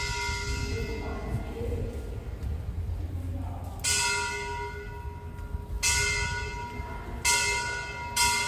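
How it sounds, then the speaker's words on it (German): A monk strikes a temple bell in Prachinburi, Thailand, sounding four bright metallic clangs at roughly even intervals, each ringing on with a long decaying tone over outdoor background ambience. "Ein Mönch klopft an die Glocke."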